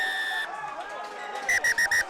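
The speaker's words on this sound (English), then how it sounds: "he's given a quick blast of his whistle a couple of times" At a Hawick versus Jed-Forest rugby match, the referee gives four quick, sharp whistle blasts in a row, loud over the crowd noise and a commentator's voice.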